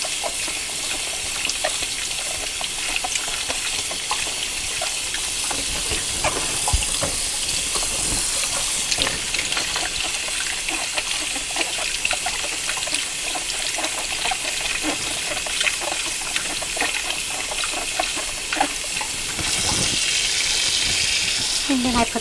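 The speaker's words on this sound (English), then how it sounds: "keep dumping the bowl of water so it keeps fresh water in the bowl while I'm doing all my rinsing" Steady running water pours and splashes over bell peppers being rinsed in a bowl that is repeatedly emptied and refilled, a continuous close wash of trickling and gushing with faint voices now and then underneath.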